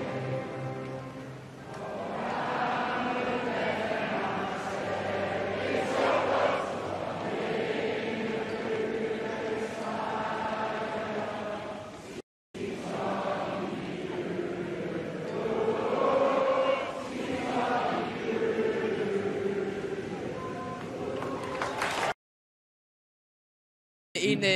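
Some 5,000 spectators sing the Danish national anthem together at a women's international football friendly between Denmark and Spain, a sustained, swelling mass of voices filling the stadium for over twenty seconds before cutting off.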